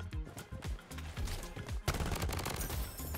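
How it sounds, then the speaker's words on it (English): Rapid sniper and automatic gunfire in the shooter game Bloodstrike, a fast rattling burst up front giving way to a denser, continuous barrage of shots and explosions that fills the rest of the moment. "Yo, I'm getting sniped now."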